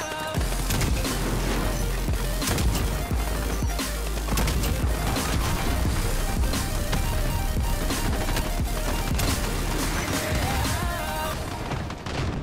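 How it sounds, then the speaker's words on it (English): A cruise missile strike in Call of Duty: Modern Warfare survival mode, a loud, continuous barrage of booming blasts and crashing impacts, dense and relentless throughout. "Here comes a cruise missile."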